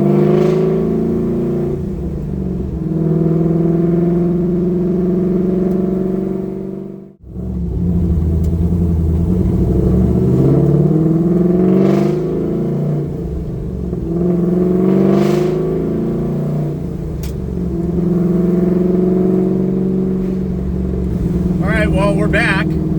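A Camaro with a swapped LS3 V8 idles in a steady, loud, low rumble that holds even throughout, with a person talking over it.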